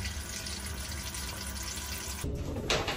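Water leaks from a closed pipe as a steady close hiss and trickle, shifting to a more splashing, uneven flow near the end, with no voices.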